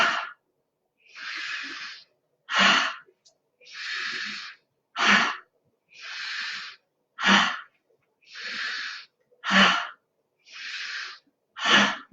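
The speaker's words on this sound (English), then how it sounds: "Breathe in, breathe out." Deep breathing during a guided centering breathing exercise: about ten loud, close breaths in a steady rhythm, sharp short bursts alternating with longer, softer airy phases, each separated by brief silence, with no talk.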